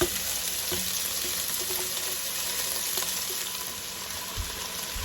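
Olive oil sizzles in a hot Dutch oven, a steady close hiss of frying with a few faint clinks.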